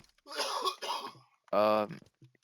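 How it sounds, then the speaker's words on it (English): A person nearby coughs and clears their throat in a few rough bursts, followed by a short voiced hack, with quiet gaps between. "Sorry about the coughing in the background"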